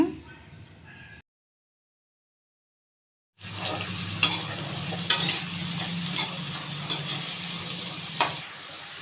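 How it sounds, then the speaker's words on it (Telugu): Chopped onions fry in a pan with four green chilies for a pesara punugulu drumstick curry, giving a steady close sizzle with occasional sharp crackles and stirring scrapes after a brief quiet break. "ఉల్లిపాయ బాగా వేగనివ్వాలండి"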